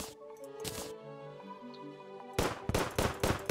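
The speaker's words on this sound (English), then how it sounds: "we also got this handgun, which is... actually a little bit better than the gun we have" Handgun shots from the video game Terraria ring out in a quick burst of several loud, sharp reports near the end, after a stretch of quieter game music and ambience.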